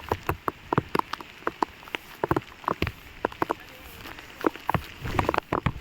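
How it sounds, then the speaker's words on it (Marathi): Fine drizzle falling outdoors on a hillside off-road trail, a faint steady hiss broken by sharp, irregular drop-like taps close to the microphone. "बारीक बारीक पाऊस चालू आहे"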